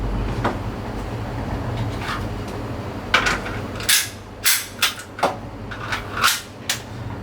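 A pistol goes into a Kydex holster with several sharp plastic clicks and snaps in the second half, close and distinct against a quiet room, no talking.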